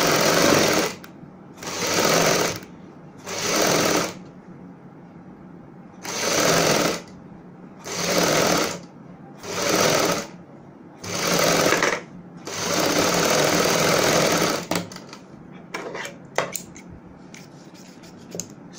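Sewing machine stitching kameez fabric in loud close bursts, about seven runs of two seconds or less separated by short pauses, then one longer run before the motor stops and light handling noises follow.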